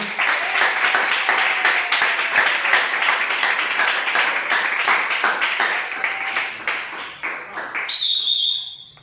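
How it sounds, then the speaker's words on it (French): Congregation applause at a church enthronement service, dense clapping for about eight seconds that thins out near the end, with a shrill whistle-like tone appearing briefly at the close. "Est-ce qu'on peut applaudir?"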